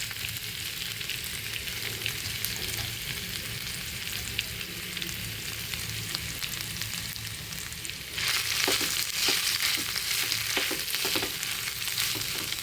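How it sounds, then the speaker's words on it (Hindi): Fenugreek (methi) leaves sautéing in butter give a steady close sizzle throughout, growing brighter and busier partway through as the leaves are stirred with light scraping taps. "इसके अंदर ये जो हमारी मेथी है इसको हम सौते कर लेंगे थोड़ा सा"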